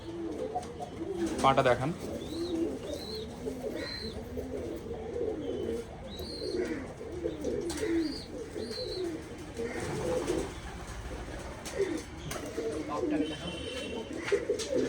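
Teddy and Malbai pigeons coo in repeated soft throaty phrases up close, with some higher chirps mixed in, while people talk over them throughout.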